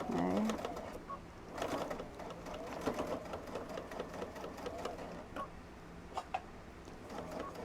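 A sewing machine stitches a puff quilt at a short stitch length, running as a soft rapid mechanical whir with faint ticking, fairly quiet and steady, with a few light clicks.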